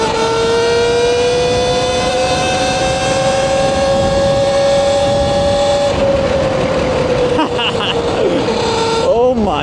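Talaria XXX electric dirt bike with stock smooth tires carries a steady, rising electric motor whine close up, shifting pitch as the rider slows and speeds up, with a voice speaking over it near the end.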